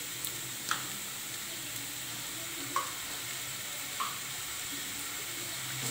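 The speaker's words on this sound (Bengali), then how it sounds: "পেঁয়াজটা হালকা ভাজা হয়ে গেছে, এবার আমি আদা রসুনের পেস্ট দিয়ে দেবো 2 চামচ মতো।" Ginger garlic paste sizzles in a pan with lightly fried onions for chicken malai, a steady, soft frying hiss broken by a few faint clicks of stirring, with no talking.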